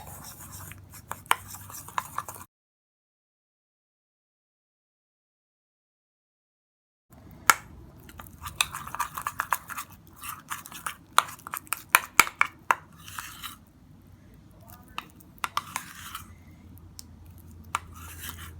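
A spoon scrapes and taps against a small bowl as ingredients are mixed into a paste, with soft irregular clicks and scrapes that stop briefly and then resume more busily.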